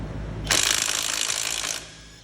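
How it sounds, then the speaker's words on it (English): A Klein impact driver fitted with a Husky 1/2 inch drive adapter hammers in one loud, continuous rattling burst of just over a second, close up, with no talking. "Next up is the Klein impact driver with a Husky 1/2 inch bit adapter on, or 1/2 inch drive adapter"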